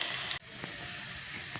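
Tempering spices sizzling in hot oil for a carrot curry: a steady, fairly quiet hiss and crackle heard close, with a brief dip and a couple of soft pops.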